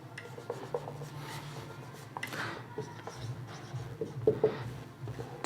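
Chalk or a marker scratches and taps across a board during a maths lesson on percentages. The strokes are irregular and mid-level, with a faint background hum and occasional soft voice sounds.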